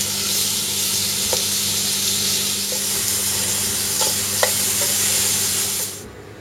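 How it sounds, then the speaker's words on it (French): Exotic fruits caramelize in melted brown sugar in a pan with a loud, even sizzle and occasional small pops, fading out near the end. "Je vais simplement mettre les fruits dedans pour les caraméliser."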